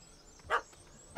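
A single short dog bark rings out in The Witcher 3, a brief mid-range yelp over a quiet game backdrop, with the start of another bark cut off at the very end.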